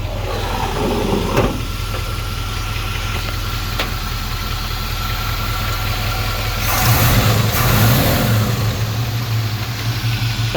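A 1984 Chevrolet C10 stepside truck engine idles steadily with a light ticking that suggests a lifter or loose rocker arm, then revs up briefly near the end before settling again.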